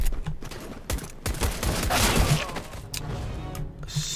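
Gunfire in Counter-Strike: Global Offensive, with rapid, loud, close shots in clustered bursts and sharp cracks over several seconds. No one talks.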